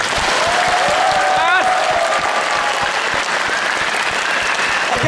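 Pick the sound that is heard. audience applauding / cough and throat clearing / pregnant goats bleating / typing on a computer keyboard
audience applauding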